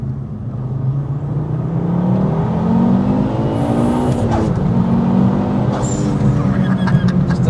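A 550bhp Ford Focus RS converted to four-wheel drive accelerates hard, its engine note climbing steadily through a loud, continuous surge with rising harmonics and a brief gear change partway through, heard up close from inside the car.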